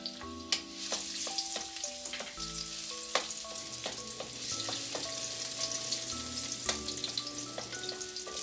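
Garlic sautéing in cooking oil in a preheated wok, giving a steady close sizzle with scattered crackles and the clatter of stirring against the pan, and no voices.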